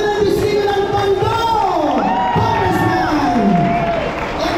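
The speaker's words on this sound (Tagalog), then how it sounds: "Palakpakan po natin!" Crowd at an outdoor community event in Tondo clapping and cheering loudly, with whoops and shouts over sustained applause and voices mixed in throughout.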